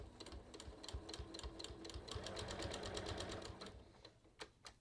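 Sewing machine stitching a kangaroo pocket onto a top, a steady rapid needle clatter that speeds up slightly through the middle and then slows to a few isolated stitches, close and quiet.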